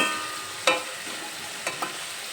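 Spice masala for a bele fish curry frying in a pan, a soft continuous sizzle broken by a few sharp scrapes of the spatula.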